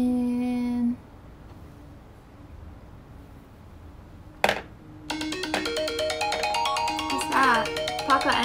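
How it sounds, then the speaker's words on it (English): A phone ringtone plays a bright, repeating melodic ring that starts about halfway through and continues loudly to the end, after a brief sustained tone and a sharp click near the start, with no talking over it. "answer your phone"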